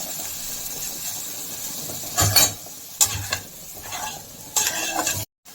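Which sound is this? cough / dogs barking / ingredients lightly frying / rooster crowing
ingredients lightly frying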